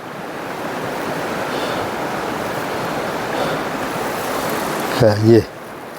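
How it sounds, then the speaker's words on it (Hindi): Broad, steady roar of the Mandakini Ganga rushing along a rocky mountain stream, loud and continuous throughout, with a brief burst of a voice near the end. "ये देखिए पानी किस तरह से फेंक रहा है।"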